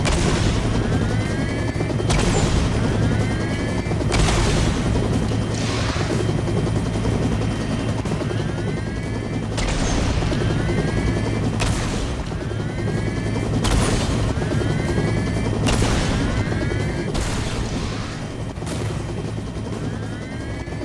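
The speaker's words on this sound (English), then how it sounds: "It's a helicopter" A helicopter in the PS4 game G.I. Joe: Operation Blackout drones with a loud, steady rotor roar. Sharp blasts of gunfire and booms punctuate it at irregular intervals.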